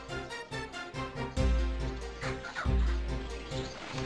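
Agitated chickens in the video game Shenmue II cluck in quick repeated bursts, with a couple of heavier low thumps partway through and no speech.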